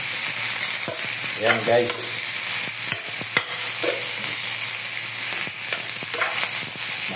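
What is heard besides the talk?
sautéing squash and string beans in a pan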